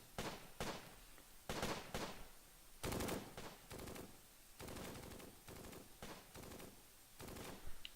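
Bursts of gunfire in the Close Combat video game during a battle on the Baron assault mission, with distinct clusters of rapid shots separated by short pauses and no voices.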